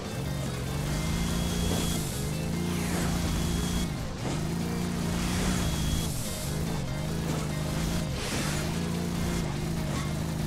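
A steady engine drone with repeated dips and lurches in pitch as a car jolts over bumps in the video game Hill Climb Racing 2, continuous and fairly loud with no talking.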